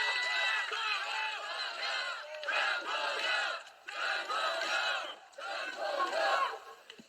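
A crowd at a Korean political rally welcoming the People Power Party leader cheers and chants in four loud, rhythmic bursts with brief gaps between them.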